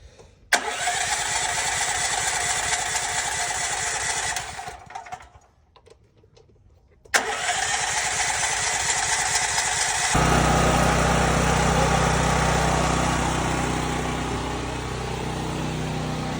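DuroMax XP12000EH home generator cranks with a sharp start, runs steadily, cuts out briefly, then restarts and settles into a loud, continuous engine drone that deepens into a lower, heavier hum.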